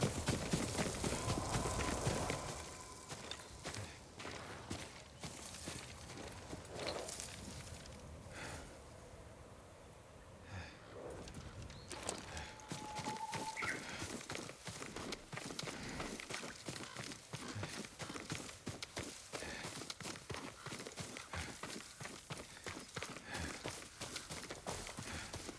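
A horse's hooves clip-clop steadily in the Ghost of Tsushima video game, a continuous series of quick, fairly close hoofbeats over a rustling ambient bed, briefly easing before resuming at a trotting pace.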